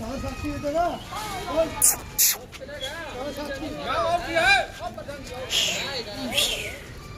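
Sheep roam and bleat repeatedly at close range, several wavering calls overlapping with a babble of people talking in the background and a few sharp clatters.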